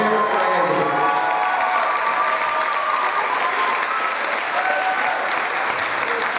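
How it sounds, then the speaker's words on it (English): Sustained loud applause from a crowd welcoming a basketball player being introduced at a team reunion, steady clapping with some cheering throughout. "Let's hear it for Randy"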